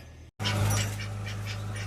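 Ducks quack among chickens in a small backyard poultry pen, a short close burst of calls over a low steady hum, following a brief cut to silence.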